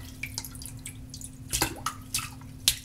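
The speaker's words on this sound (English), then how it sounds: "pour the water out." Water poured out of a shaving lather bowl lands in a few scattered drips and splashes, with small sharp spatters standing out against a quiet hum, no voice.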